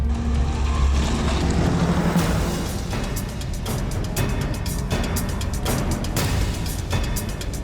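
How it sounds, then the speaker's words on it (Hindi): A car engine runs steadily while being driven, a loud, continuous rumble and hum that holds without a break throughout, with no voices. "राशिद तू एक काम कर, गाड़ी ना यहाँ से अंदर दबा ले, झाड़ी के अंदर ले ले"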